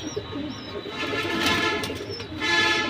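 Pigeons coo in soft repeated throaty calls close by, over a low background hum.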